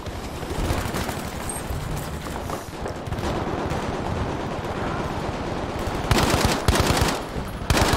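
Vickers machine gun fired in Battlefield V on PS4, with rapid continuous bursts of automatic fire rattling loudly over dense battlefield noise, ending in sharper closer volleys.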